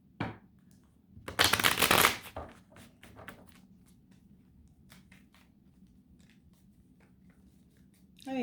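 Tarot cards are shuffled close by in one loud riffling burst lasting under a second, followed by soft scattered taps and handling of cards on a table.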